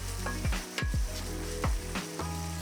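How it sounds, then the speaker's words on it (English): Steady sizzling of ground meat browning in a hot frying pan, with a few scraping stirs of a wooden spoon breaking it up, close and unaccompanied by voices. "Break it up with a wooden spoon and saute until browned."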